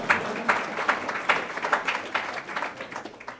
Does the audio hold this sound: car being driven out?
no